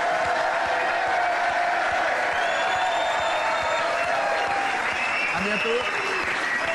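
Sustained TV studio audience applause with some cheering from a French evening variety show set, steady and full throughout, with a host's voice speaking briefly over it.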